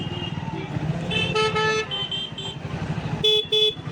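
Busy town road traffic in Gujarat with cars and motorcycles rumbling past, while vehicle horns toot in short bursts, one cluster in the middle and another near the end.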